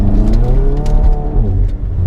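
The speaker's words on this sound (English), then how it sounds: "When I floor it, the traction control lights up and it cuts power." An APR Stage 2 tuned Volkswagen MK7 GTI in manual mode is floored, its engine revving loudly and climbing through gears, with a rising, wavering tone and brief cuts from traction control, up close and without talk.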